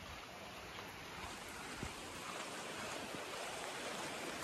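Steady rain falls at midnight during the Bhado month at a namghar prayer hall in Assam, a dense continuous hiss with no talking, even and unbroken throughout.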